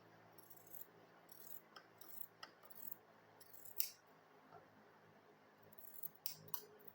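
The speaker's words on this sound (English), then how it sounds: "So now I'll go ahead and cut this side." Scissors snip through pink school bag material in a series of faint, crisp cuts and small metallic clicks, irregularly spaced against a quiet room.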